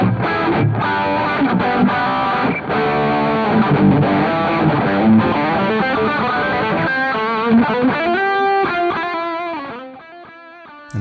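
A Strandberg Boden Prog NX7 seven-string electric guitar with Fishman Fluence pickups in its passive humbucker voicing plays a dense, distorted riff with chorus-like effects, shifting into sustained chords before fading out, with no talking.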